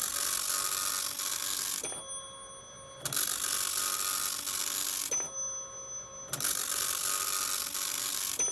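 A Teletype Model 43 printer with a new old stock ribbon running its print test, loud bursts of rapid mechanical chattering and clacking that stop for about a second and restart, with a low hum continuing through the gaps.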